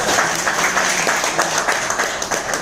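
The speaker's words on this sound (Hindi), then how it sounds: "उनके बदले में जोरदार ताली होनी चाहिए" An audience at a business presentation event gives a sustained round of dense, loud applause, steady clapping throughout with no talk over it.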